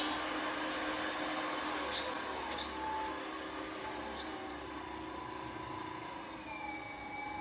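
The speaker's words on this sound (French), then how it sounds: "je démarre mon cycle automatique de rotation" Motorized 3-axis MD3 i2 positioner running an automatic rotation cycle, giving a steady, moderate electric motor whir with faint tonal lines and a few small clicks throughout.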